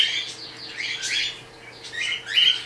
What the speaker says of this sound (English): Bloody bird.